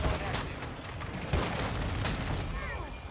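Dense gunfire in Call of Duty: Modern Warfare 2 multiplayer on the Shipment map, rapid overlapping shots and bursts crackling loudly throughout in a busy close-quarters match.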